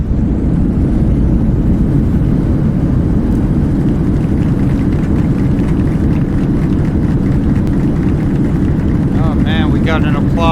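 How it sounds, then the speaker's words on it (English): A Boeing 737-800 in a flight simulator game roars with reverse thrust on landing, a loud, steady broadband rumble filling the whole stretch, with faint voices near the end. "Reverse thrust."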